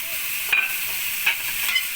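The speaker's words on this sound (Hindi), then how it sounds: "2 मोर मिनट हम इसको फ्राई करेंगे।" Cabbage frying in a pan for a chicken pasta dish, making a steady sizzle with a few soft stirring scrapes, close and moderately loud with no voices.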